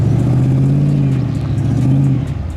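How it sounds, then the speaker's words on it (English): A Jeep Grand Cherokee engine revs hard and steadily off-road as its wheels spin for grip, a loud, close, sustained drone that dips slightly near the end. "Slight wheel spin and the Jeep moves higher"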